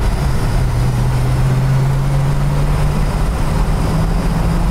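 A 1986 Ford Mustang LX 5.0 cruises down a road, its engine droning steadily and loudly from inside the car with a constant low hum and road rumble, and no talking.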